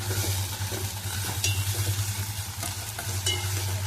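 Freshly pounded, coarsely crushed ginger fries in a pan with a steady close sizzle and a couple of light stirring clinks, over a constant low hum.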